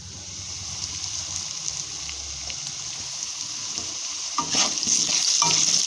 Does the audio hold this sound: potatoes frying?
yes